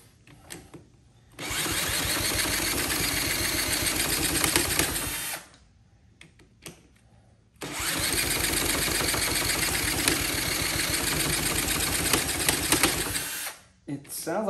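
A Honda CT70K1 motorcycle engine runs hard with the throttle wide open in two loud, steady bursts of about four and six seconds, separated by a brief quiet gap.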